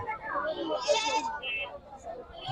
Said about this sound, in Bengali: চলে আসলাম চাকমো রেলবাজার সেই ঐতিহাসিক দেশি ছাগলের হাটে